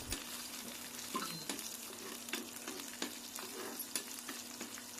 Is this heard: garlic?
yes